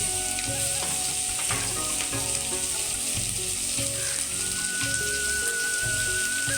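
Spices and a pinch of turmeric powder hit hot oil in a frying pan, giving a loud, continuous, dense sizzle close to the listener with a few scraping stirs, and no voices.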